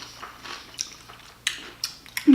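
Close-up crunchy chewing of cucumber shrimp bites with rice and teriyaki sauce, a series of sharp crisp bites and wet squishy chews, ending in a brief low sound, with no talk.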